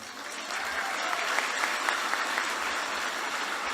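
A crowd of about 1,400 Filipinos in Israel applauding: dense, steady clapping that swells after a brief quieter start and then stays even and fairly close for a few seconds.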